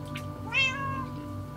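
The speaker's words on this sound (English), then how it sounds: "It makes a meow sound." A single short cartoonish cat meow plays as a sound effect in a mini game, clear and close over a steady electronic background tone.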